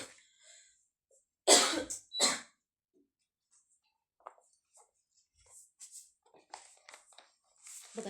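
Two sharp, close coughs in quick succession from a single woman, followed by quiet breathing and faint, scattered sounds.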